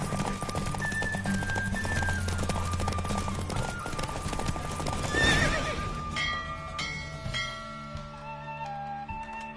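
Hooves of a racing horse in The Witcher 3 clip-clop at a gallop alongside several neighs and whinnies, loud and close, set against a steady bed of game music.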